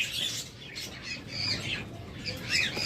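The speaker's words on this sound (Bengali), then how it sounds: "এটা হলো ক্রিমিনো অপালাইন নন রিংয়ের পাখি" Creamino opaline pet birds kept at a bird farm give repeated harsh squawks and calls in short bursts, close and moderately loud over a soft background, with no speech.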